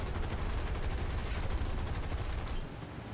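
Aircraft guns in War Thunder fire in a sustained rapid burst of evenly spaced shots, loud and steady for a few seconds before cutting off.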